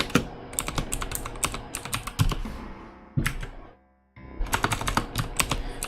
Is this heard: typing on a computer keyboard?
yes